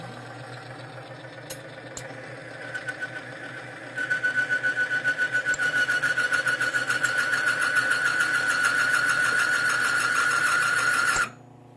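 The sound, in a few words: NNL 690 Timken bearing test machine running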